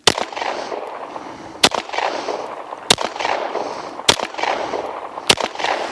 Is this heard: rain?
no